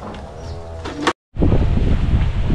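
Strong wind gusting steadily during a storm, a broad rushing roar with a short moment of silence partway through before the blustery noise resumes louder.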